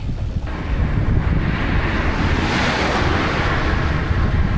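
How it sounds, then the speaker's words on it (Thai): Light wind blowing outdoors on a roadside during a bicycle trip, a continuous rushing buffet across the microphone, fairly loud and unbroken, with no talking. "มีลมพัดเบาๆเอื่อยๆนะครับไม่หนัก"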